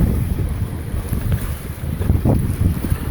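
Wind blows across a sunny sea shore with waves, making a constant loud rumbling roar and buffeting the microphone throughout, with no voices.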